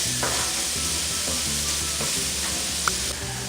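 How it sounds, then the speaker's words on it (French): Shallots sweat in a cooking pot for a langoustine dish, a constant soft hiss of frying with a few light scrapes of a utensil and a faint low hum underneath. "Quand les échalotes ont bien sué, c'est-à-dire quand elles deviennent brillantes"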